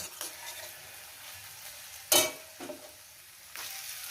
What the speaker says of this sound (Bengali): কাঁচা লঙ্কা দিয়ে রান্নাটা করলাম এটা একটু দু মিনিট আমি একটু কষিয়ে নেব